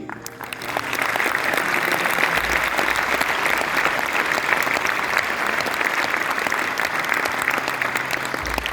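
Sustained audience applause at a Ramotsav event at GL Bajaj, a dense, steady roar of many hands clapping that rises quickly and holds loud throughout without pause.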